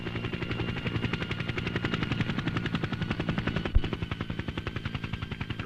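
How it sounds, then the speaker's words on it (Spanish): A helicopter flies over a construction project in Balao, Ecuador, its rotor beating in a steady, fast rhythmic chop over a loud engine whine. It holds the sound alone throughout, with one sharp knock partway through. "Los versátiles helicópteros han sido fundamentales en esta trascendental obra que hoy culmina en Balao."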